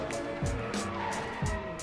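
Car tires skid and squeal under panic braking in the DRIVECLUB racing game, two short screeches over a continuous engine drone.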